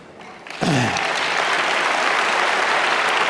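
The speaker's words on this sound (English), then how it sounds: "they're clapping in recognition" An audience at a talk by a former Israeli defense minister bursts into loud, sustained applause after a brief quieter moment, with no voices over it.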